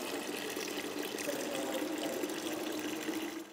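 Tap water is opened slowly to fill a tank in a heating or plumbing system with the bleed valve left open, producing a steady, continuous hissing rush of flowing water at an even level throughout.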